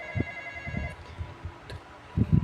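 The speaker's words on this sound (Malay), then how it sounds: "Ada orang call" A telephone rings inside a horror video game set in a house where a broken phone must be repaired, its steady electronic tone running under low thumps and game noise at moderate volume.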